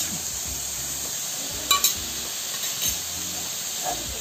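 Onions with salt sauté in a pan with a steady, close sizzle and hiss, and a few light scrapes and clinks of stirring.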